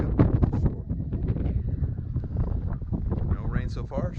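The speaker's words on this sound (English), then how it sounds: "No rain so far, but still just a little windy." Wind buffets the microphone on a hike on the Isle of Skye, a rough continuous rumble running beneath someone talking throughout.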